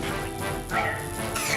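Cartoon robot fire dog gives a short burst of barking amid busy animated-show sound effects, loud and close, with no talk over it.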